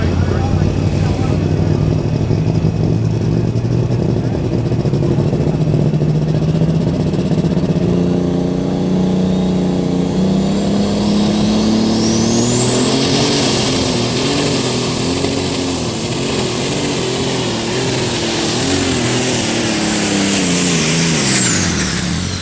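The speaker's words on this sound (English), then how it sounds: "we're going to start our lightweight super stock tractor class." Lightweight super stock pulling tractor, alcohol or diesel powered, roars continuously at full throttle during a tractor pull, with a whine that rises high partway through the run; an announcer's voice carries over the engine noise.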